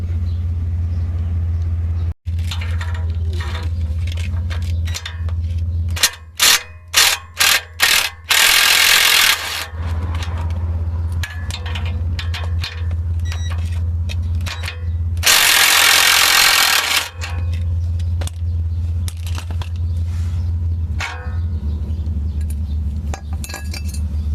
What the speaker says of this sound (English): now we have some room to unbolt this and then unbolt that.